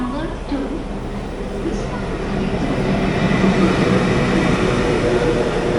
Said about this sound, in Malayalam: ഇത് കാരേക്കാൽ എക്സ്പ്രസ്സാണ്.